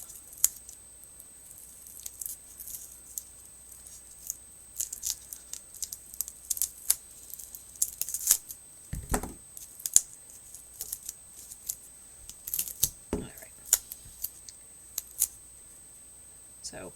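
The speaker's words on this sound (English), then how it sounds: "I'm going to cut strips and just cut this in half" Scissors cut paper strips in half with scattered quiet snips and small rustles, spaced irregularly over a hushed background.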